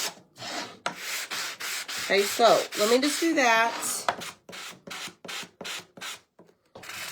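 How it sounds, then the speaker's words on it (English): Rapid scratchy strokes of a sanding block rubbing wood, close up, in quick bursts, with a person speaking briefly partway through. "how easy it is to rough something up whenever you have a newer sanding block"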